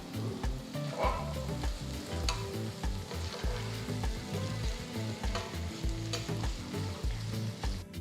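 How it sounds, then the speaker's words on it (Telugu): A spice masala with garlic and chilli pieces fries in oil while being stirred, a steady bright sizzle under rhythmic scraping strokes of a spoon against the pan, close and moderately quiet. "ఇప్పుడు మొత్తం ఒక్కసారి బాగా మిక్స్ చేసేసుకోవాలి"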